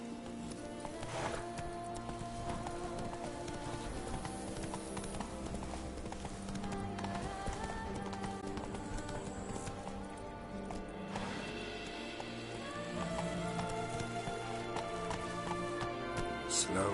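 Steady, continuous clip-clop hoofbeats of the horse Roach in the video game The Witcher 3: Blood and Wine play close and prominent over a dense game soundscape.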